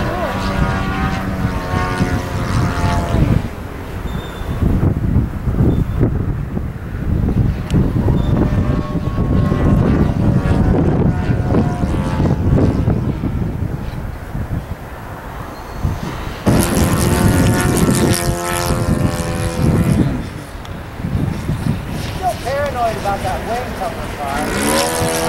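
A radio-controlled model airplane flies overhead in wind at an RC club field, its loud engine droning steadily and swelling as it passes, with wind buffeting the microphone and people talking throughout.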